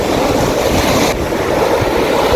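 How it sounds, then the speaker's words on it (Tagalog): Strong sea waves surge and crash continuously at a fishing spot on the Dubai coast, a loud, steady roar of surf with wind buffeting the microphone throughout. "Tignan ninyo, lalakas ng alon."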